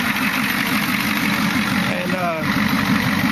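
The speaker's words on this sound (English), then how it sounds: "I have my NOx analyzer hooked up on it, and it's at hot idle, 160 degrees." A diesel engine running at hot idle, about 160 degrees, with a little smoke and a NOx analyzer hooked up, gives a steady, even rumble close by throughout while someone speaks briefly over it.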